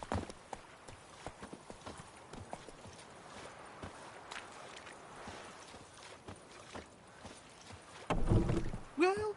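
In The Witcher 3, Geralt's horse Roach walks with a steady clip-clop of hooves, quiet and close, ending in a louder burst with a brief whinny-like snort.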